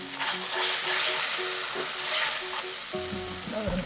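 Doenjang seasoning paste stir-fries in a hot pan for jang-kalguksu, a steady loud sizzle with scraping stir strokes throughout and a brief tonal clink near the end.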